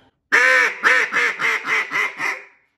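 A duck call gives a series of hen mallard-style quacks, one long opening note then five quicker quacks in a rising, excited hen cadence, loud and close.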